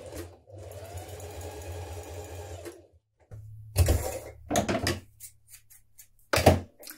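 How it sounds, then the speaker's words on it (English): A sewing machine stitches the short seam of a dress neckband, its steady whirring run lasting a couple of seconds, then a few shorter bursts of stitching with pauses between, close and clear with no talk. "Now bring the two short edges of your neckband together like this, and we're going to stitch this seam in place."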